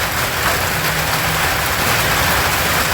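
Steady rain falls through a lazy afternoon in a continuous, dense hiss of drops that stays loud and even throughout, with no talk.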